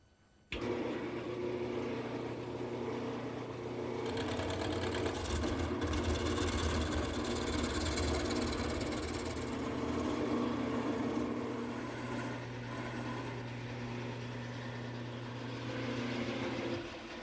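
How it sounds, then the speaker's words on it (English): A wood lathe spins a croquet mallet handle as a gouge roughs the piece round, giving a steady, fairly loud motor hum with continuous scraping and rushing noise from the cut that lasts the whole time, without speech. "I'm going to start the turning by using my gouge."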